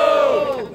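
A rap battle crowd roars briefly for the MC Gini, a short loud burst of shouting and cheering that fades quickly.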